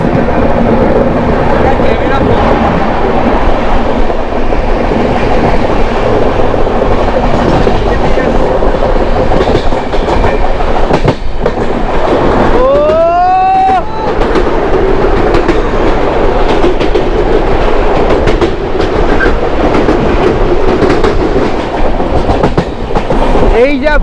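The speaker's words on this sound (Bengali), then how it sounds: "এই ট্রেনটাকে ওপরে উঠিয়ে নিয়ে যাচ্ছে হচ্ছে আমাদের ওয়াব সেভেন আর ওয়াব সেভেন এমনি খুব পাওয়ারফুল ইঞ্জিন ও একাই ট্রেনে ওপরে উঠিয়ে নিয়ে যাচ্ছে" The Samaleswari Express climbing uphill behind a WAP-7 electric locomotive rumbles loudly and continuously, wheels clattering over the rails with steady mechanical roar and a brief rising squeal midway; a voice talks over the din.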